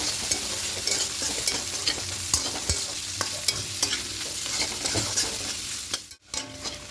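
Steady sizzling of vegetables, including carrots, frying in a pan for egg chow mein, with repeated scraping and clinking as they are stirred, close and fairly loud throughout.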